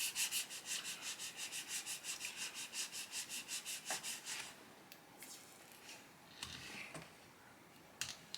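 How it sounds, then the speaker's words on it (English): A screen protector being rubbed and smoothed onto a Galaxy S23 Ultra phone, heard as a steady run of rhythmic rubbing strokes up close that gives way to scattered soft taps and scrapes. "Just rub this nice and good."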